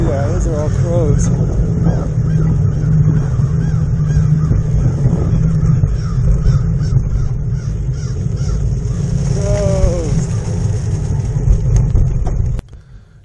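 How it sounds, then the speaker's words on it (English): Crows caw in a few scattered calls over a steady, loud rumble of traffic or wind, while a person talks throughout. "Those are all crows."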